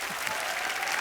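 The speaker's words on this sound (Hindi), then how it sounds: "जोरदार तालियां सुशील कुमार के लिए, भाईचुंग के लिए, नवराज सिंह और अंजू बॉबी जॉर्ज के लिए" A short, steady burst of loud applause from a television comedy show's studio audience, many hands clapping together in a dense, even wash with no voices.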